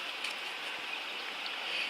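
Water runs steadily from a tap as freshly cleaned trout are rinsed, a constant close hiss and splash with no voices.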